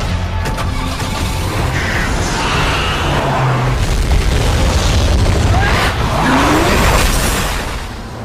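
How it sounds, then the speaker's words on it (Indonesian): A car speeds away with roaring engine noise, tire skids and booming impacts in a loud action-film chase scene, continuous for several seconds with no talking. "Ethan pun segera membawa Sarah pergi sejauh mungkin dengan mengendarai mobil."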